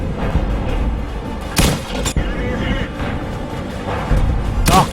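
Tank cannon shots in the World of Tanks video game, fired at a gun carrier: two sharp broadband bangs near the start and another near the end, over a constant dense game-engine rumble.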